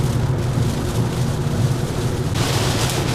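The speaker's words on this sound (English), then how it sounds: "the rain is insane. I can barely see." Heavy storm rain roars as a dense, steady wash of noise, constant and loud throughout, with a low rumble beneath it, heard while riding a Zero FX electric motorcycle.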